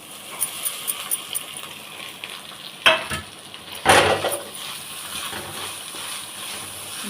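Freshly grated coconut stirred in a frying pan with a pinch of asafoetida, giving a steady soft sizzle with light scraping taps early on and two sharper scrapes of the spoon against the pan.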